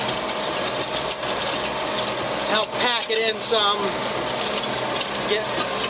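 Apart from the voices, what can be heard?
Ford 7710 tractor pulling an Allis Chalmers disk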